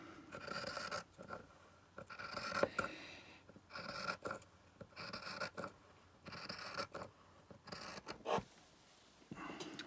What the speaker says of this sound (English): I'm going to cut this hem off the bottom